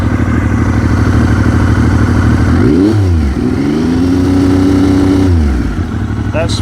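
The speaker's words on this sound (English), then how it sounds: "Let's add some revs." A Kawasaki H2 SX SE motorcycle engine idles loudly, then revs up twice in rising and falling sweeps, close by, with a steady mechanical clatter throughout.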